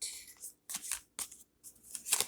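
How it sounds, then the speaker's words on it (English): Tarot cards being shuffled by hand, giving short crisp riffling and flicking bursts separated by brief pauses, close and fairly quiet, with no talking. "Let me just shuffle these a little bit."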